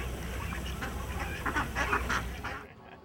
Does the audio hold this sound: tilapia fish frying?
no